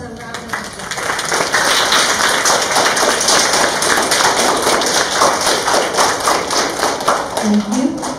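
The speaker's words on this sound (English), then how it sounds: "Let's give ourselves a round of applause." Audience at a school welcome address breaking into continuous applause, loud and sustained with dense overlapping claps filling the hall nearly the whole time.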